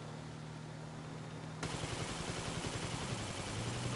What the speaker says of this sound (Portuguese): Tentando atirar nos caras pra ver se eu desanimo eles de continuar seguindo